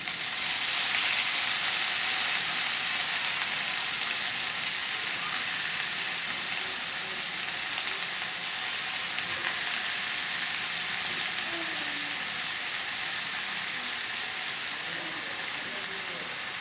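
Cooked rice sizzling in a hot pan for home-made fried rice with vegetables, a steady bright frying hiss that holds up close and continuous throughout with faint stirring underneath.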